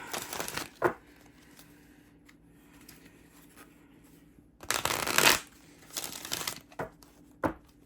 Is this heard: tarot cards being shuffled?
yes